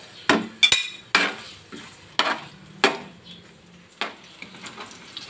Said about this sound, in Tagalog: Ngayon naman ay piprituhin natin ang ating saging na saba